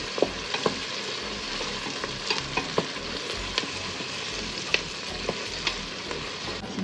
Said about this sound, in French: Donc, on va faire revenir les oignons pendant quelques minutes